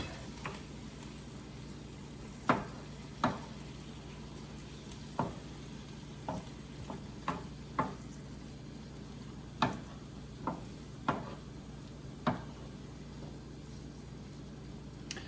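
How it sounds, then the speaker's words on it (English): Soft continuous sizzling with a spoon scraping and tapping against a pan every second or so, steady and close, with no voices. "I'm going to stir this up for about 3 or 4 minutes."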